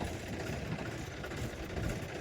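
A tractor engine idles at a standstill beside a borewell on a farm, a steady, rough low rumble that holds an even level from start to finish without any voices.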